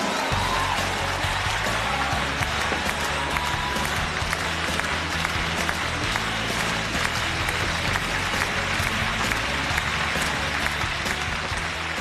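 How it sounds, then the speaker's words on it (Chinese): A studio audience claps loudly and continuously to welcome a contestant onto a job-seeking TV show stage, a dense, even wall of applause holding at full level for the whole stretch. "掌声有请白云翔"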